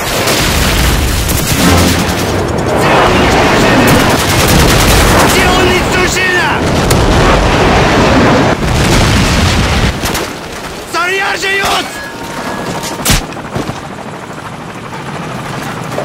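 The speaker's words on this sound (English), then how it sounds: "Friendly airstrike on the way" A Call of Duty 4 headquarters match on PC, with a loud, dense roar of helicopter rotors, booming airstrike explosions and bursts of gunfire, thinning later to scattered shots and short radio-style voice callouts.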